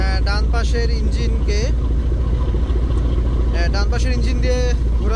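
The passenger launch MV M Khan-7 turns on its right-side engine near Nalchity launch ghat in the late afternoon. A heavy, steady low engine drone runs throughout beneath continuous talking.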